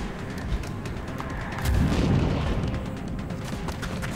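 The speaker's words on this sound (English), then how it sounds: "I love when those guys explode." A soldier-type enemy blows up in XCOM: Enemy Unknown, a deep muffled boom swelling midway over a steady rumbling game soundscape.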